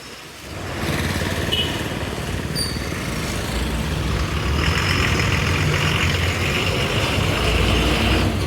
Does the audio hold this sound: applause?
no